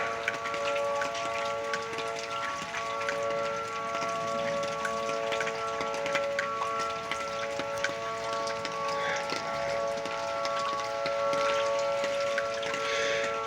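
Light rain falls steadily north of Tulsa in northern Oklahoma with no thunder, a soft even patter outdoors while a faint steady tone of distant tornado sirens hangs underneath.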